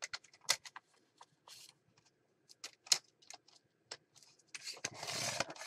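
Paper for a mixed media folio journal is trimmed along its rough edge in quiet, close, intermittent bursts of scraping and rustling, with soft sliding and handling noises between cuts and a longer rustle near the end.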